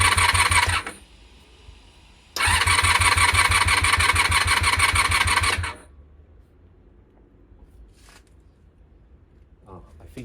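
A Honda VFR400 NC30 motorcycle under restoration cranks over with a rapid, loud starter whirr in two bursts, the second lasting about three seconds, then falls quiet without firing.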